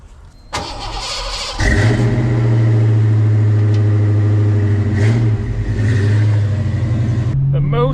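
An engine fitted with a block heater cranks for about a second, then catches and fires up. It settles into a loud, steady run with slight revving over several seconds, close up, with no talk over it.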